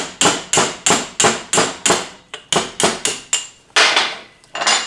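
A hammer smacking a chisel against a ground-through bearing race on an S10 rear axle carrier, a dozen sharp metallic blows in a quick, fairly even rhythm, close and loud with ringing decay, no talk.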